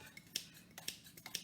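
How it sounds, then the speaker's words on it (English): Scissors snip fresh parsley inside a cup, three sharp close cuts spaced at a steady rhythm, with no other sound around them. "So just put it all in a cup and cut with scissors"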